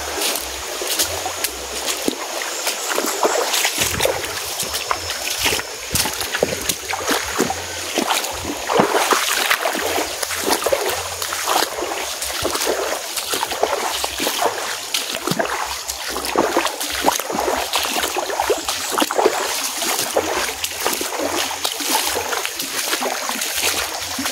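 Feet wade through a shallow river, sending up continuous sloshing and splashing water close by, with a steady watery rush underneath.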